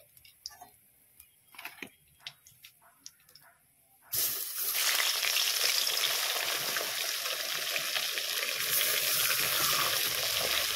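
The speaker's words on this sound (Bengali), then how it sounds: "তো বাকি মাছগুলোকেও আমি ওইভাবেতেই ভেজে নিচ্ছি।" Rohu fish pieces frying in hot oil for a Bengali fish curry: a few sharp clicks and taps at first, then a loud, steady, dense sizzle that starts abruptly and carries on to the end.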